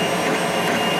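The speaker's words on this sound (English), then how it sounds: "the printer itself is printing pretty good" A Monoprice Maker Select V2 3D printer runs steadily mid-print, giving a continuous whirring, buzzing hum of motors and fan with no breaks.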